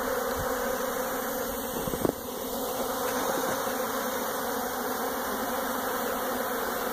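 A thick swarm of honey bees hums steadily at close range around barnyard hives, a constant droning buzz with a faint knock or tap near the middle.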